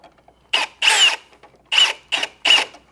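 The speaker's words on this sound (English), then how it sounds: "Use our drill and carefully tighten it up." A power drill driving a ground terminal screw on a residential 3-gang trim, running in five close, loud bursts of whirring with short pauses between, the later bursts brief as the screw seats.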